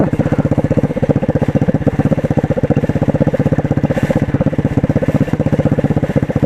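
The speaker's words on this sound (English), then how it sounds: "I just have to feather this clutch and ride down this hill right here" A 125cc motorcycle rolls down a hill with the clutch feathered, its single-cylinder engine thumping in an even, rapid pulse at low steady revs, close and continuous for several seconds.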